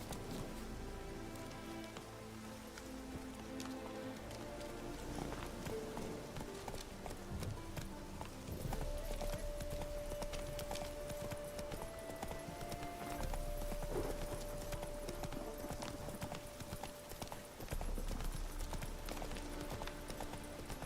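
Geralt's horse Roach gallops in The Witcher 3, hooves clip-clopping steadily and loudly for the whole stretch over game music, with rain-like patter and an occasional whinny mixed in.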